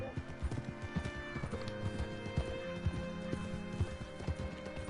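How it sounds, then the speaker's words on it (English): Horse hooves clip-clop steadily in the Red Dead Redemption 2 video game, a rhythmic run of close, distinct hoof strikes over a dense game soundscape with music and ambient layers. "Hitch your horse up here."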